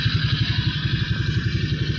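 Close, steady idle of a Honda Click 150 scooter engine after an overhaul, an even rhythmic low putter with mechanical clatter on top, no voices.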